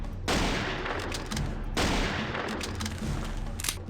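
Sniper rifle fire in the video game Jurassic Park Hunter Legends: two heavy, loud shots roughly a second and a half apart, each trailing into a long rumbling echo, with no talk.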